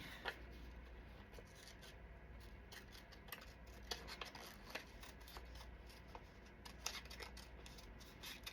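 Quiet, close scissor snips trimming paper ephemera for a craft tag, scattered irregular cuts and soft paper rustling over a steady low background hum.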